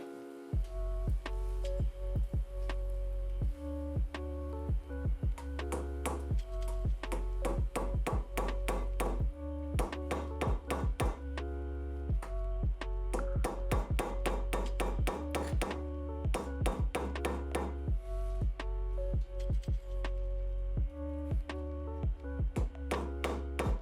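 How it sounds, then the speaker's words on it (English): A rubber mallet gently tapping grommets and screws into a bidet seat, with bursts of quick, light, close taps separated by short pauses, repeated over and over with no talking. "gently tippy tap it in with a rubber mallet"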